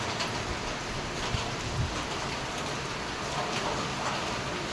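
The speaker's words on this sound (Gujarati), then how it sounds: "જો વરસાદ બી ચાલુ થઈ ગયેલો છે" Rain falls steadily on a Saturday morning, a continuous even hiss with soft scattered drops and no voices.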